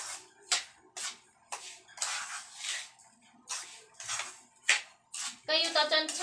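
A spoon or spatula scrapes and knocks in a hot pan while corn polvoron mixture is stirred, giving short repeated scraping strokes, with someone talking between and over them.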